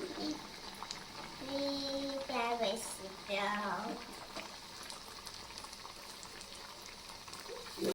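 Sweet corn vadas frying in hot oil, a soft steady bubbling sizzle that stays low and continuous throughout, with a voice talking over it.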